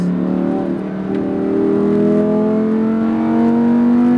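A Lamborghini Huracan accelerating on a SpeedVegas track, its engine note climbing steadily and loudly through the revs as it pulls hard, close and continuous with no talking.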